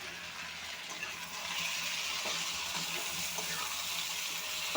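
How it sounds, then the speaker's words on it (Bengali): Taro roots frying in a pan with potatoes, a steady hissing sizzle at moderate level that grows a little louder partway through, with faint scraping of stirring. "আলুর সাথে একটু ভেজে নেব।"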